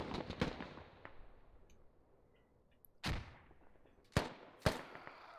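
A grenade explodes during a Squad video game championship match, followed by a few more sharp, loud blasts and gunshot-like cracks that stand out against a quiet background, spaced a second or more apart.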